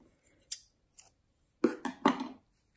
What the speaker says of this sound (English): Cut you a little bit of yarn here.